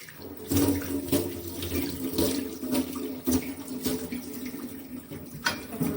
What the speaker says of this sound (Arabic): سيبوا دقيقتين على ما اغسل الحوامل معاكم اهو